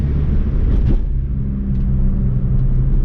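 A right-hand-drive sports car's engine, heard from inside, gives a loud, steady low rumble that holds fairly level through a smooth, linear acceleration, with no one talking.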